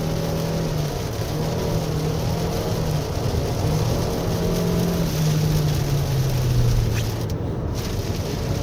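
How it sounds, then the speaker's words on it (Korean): Engine of a 2023 Toyota RAV4 Hybrid AWD driving a winding road in the rain, a continuous loud drone with slowly shifting pitch and road and rain noise underneath. "그래서 엔진 소리는 계속 지금 큽니다."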